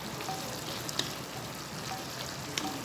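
Bitter gourd (ampalaya) sautéing in a pan in a home kitchen, a steady soft sizzle and crackle with a few faint clicks, no talking.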